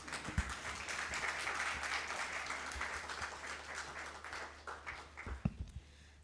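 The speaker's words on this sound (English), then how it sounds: "give a round of applause to our panelists as they come in" An audience at a moot court competition applauds as panelists walk in, broad sustained clapping from many hands that thins toward the end, with a few scattered louder claps and taps.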